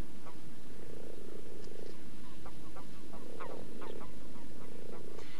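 Toads croak near water in mating season, a chorus of repeated short pulsing calls at moderate distance over a steady, dense background.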